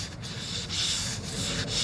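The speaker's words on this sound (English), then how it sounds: "I'm actually sanding everything manually." Hand sanding of primer on a sailboat hull before painting: a steady, close abrasive rubbing with slight rhythmic surges as the sandpaper is pushed back and forth, with no talk over it.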